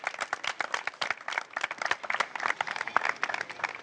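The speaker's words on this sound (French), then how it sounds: "Reine, applaudissez-la." Basketball players in a team session clap for a teammate, a short burst of scattered, uneven hand claps from a small group at close range.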